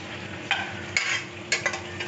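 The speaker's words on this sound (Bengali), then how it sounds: "তো দেখো বন্ধুরা হালকা করে কাজু আর কিশমিশটা ভেজে নিলাম ঘিয়ে।" Chopped cashews and raisins fry lightly in ghee, a steady close sizzle punctuated by several brisk spoon scrapes and stirs, with no voices.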